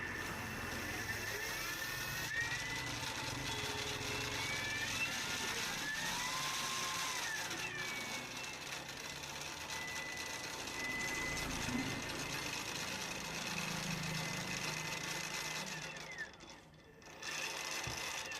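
A Geekay 1000 W electric rickshaw motor runs with a steady mechanical whir and rattle for a long stretch, moderately close, dipping briefly near the end, with a voice now and then in the background.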